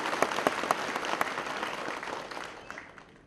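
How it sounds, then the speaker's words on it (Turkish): Crowd applause at the opening ceremony of a state hospital in Karaisalı, a dense burst of clapping that fades out over a few seconds. "Onlara bir alkış istiyorum sizden."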